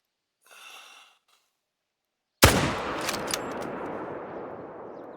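A hunting rifle fires a single loud, sharp shot at an animal in the hunting game, ringing out after a short quiet breath and trailing into a long, fading rumble across the landscape.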